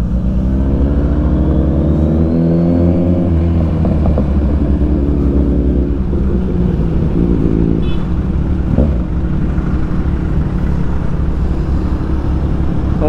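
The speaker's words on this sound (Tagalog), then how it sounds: "Ang ganda rin talaga ng dual exhaust." A Kawasaki Ninja 1000 motorcycle with dual exhaust idling loud and close, its engine rumble rising and falling through a few revs before settling into a steady throbbing idle.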